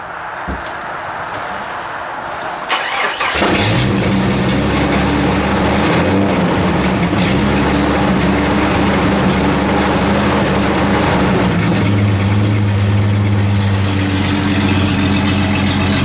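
Keys jingle faintly before a Jeep TJ with its stock exhaust cranks and starts, then settles into a loud, steady idle with a deep rumble that continues without talk.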